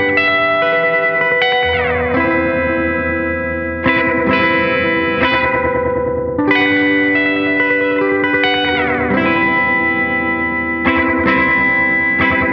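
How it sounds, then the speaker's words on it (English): Electric guitar played through a short, drippy delay on an ADG1 pedal, with chords and picked notes ringing into repeating echoes and reverb, steady and loud throughout with no voice. "So I dialed in a shorter delay here on the ADG1."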